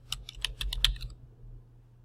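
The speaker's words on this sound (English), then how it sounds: "I simply type the name and click search." A name is typed on a computer keyboard in a quick burst of about seven crisp, close keystrokes lasting under a second, then silence.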